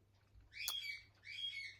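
Pet bird squawking nearby in a quiet room: two short, harsh, raspy calls, the first with a sharp onset, separated by a brief pause.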